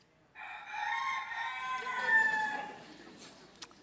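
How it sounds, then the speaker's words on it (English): A single rooster crows one long, loud cock-a-doodle-doo at night, rising and holding before trailing off, heard alone and fairly close. "the sound of a rooster pierced the night just as Jesus predicted"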